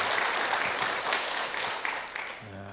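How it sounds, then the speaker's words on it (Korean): A church congregation at a Wednesday service gives a short, dense round of clapping that fills the room, then fades out as a voice begins speaking. "박수 한번 해주세요"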